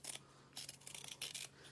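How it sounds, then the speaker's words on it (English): Scissors trim excess fabric around the top of a sewn zipper on a small pouch, giving a few quiet, close snips and crisp cuts in short bursts. "And then we're going to trim the excess, especially around the top of the zipper."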